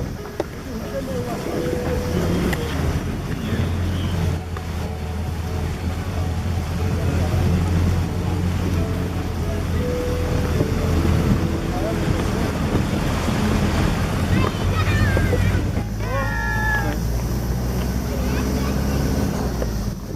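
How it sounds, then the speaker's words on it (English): A car drives across a river after the water has subsided. A low engine drone sits under rushing water and heavy wind buffeting the microphone, and voices talk briefly over it. "the river subsided enough we could drive across."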